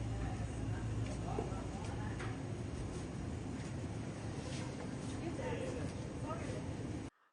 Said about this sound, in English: Most of what you hear is just the ambient background noise of people talking and moving and so on.